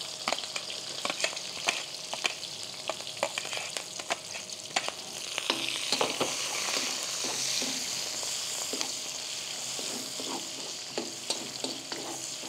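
Sliced onions sautéing in hot oil for pancit canton, a soft continuous sizzle with frequent scraping stirs and clicks of a utensil against the pan, heard up close with no talk.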